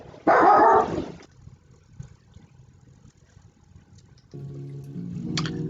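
A real dog gives a single loud, close bark, followed by quiet background noise, then a low steady engine-like hum comes in near the end.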